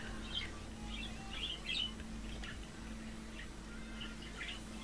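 A pet parrot chirps softly indoors in a string of quiet, scattered tweets over a steady electrical hum, with no talking.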